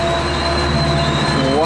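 A passenger train rolling past on the rails at Commerce, a loud continuous rumble with squealing wheel tones and a high sustained whine, near and steady throughout.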